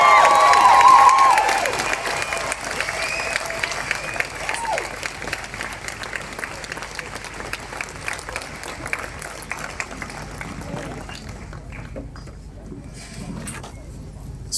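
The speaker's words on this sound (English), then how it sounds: "Can we get another big round of applause for all the brave speakers" A crowd at the Grenfell Tower anniversary memorial gives a big round of applause for the speakers, loud at first and then fading into a long, steady patter of clapping with scattered voices.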